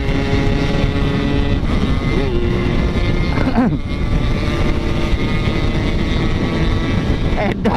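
Several motorcycles race by on a road, their engines a steady loud drone with rising and falling whines as bikes pass close, and a brief voice cuts in near the middle.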